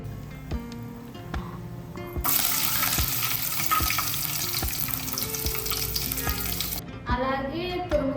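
Green chillies drop into hot oil for amla rice with a loud broad sizzle that swells for several seconds, surrounded by steady clicking and tapping and a wet gurgling at the end.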